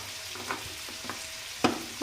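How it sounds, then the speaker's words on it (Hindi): Chicken masala with coriander powder and curry leaves fries in a pan with a soft, steady sizzle. A few light stirring scrapes are heard close by. "और इसको अच्छी तरह भून लूँगी"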